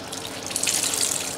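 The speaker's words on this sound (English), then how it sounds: "Wring this out." Water is wrung by hand out of a washed plastic bag. A short, close trickle and splash runs for under two seconds.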